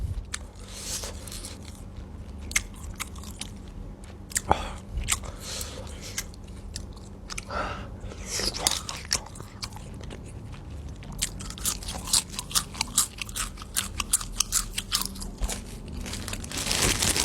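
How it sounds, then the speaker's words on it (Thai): Raw Thai beef soi ju being eaten, with wet biting and chewing crunches repeating irregularly and close up throughout, over a steady low background hum. "ผมเห็นกระแสกินซอยจุนี่เยอะแล้ว ผมก็เลยอยากลองบ้าง"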